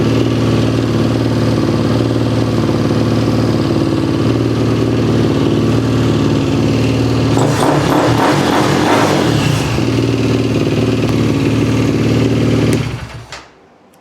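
A KTM Outlaw 525 motorcycle engine, just repaired after a bad fuel pump, runs steadily at a loud idle close by, rises briefly in a rev burst partway through, then cuts off abruptly at the end.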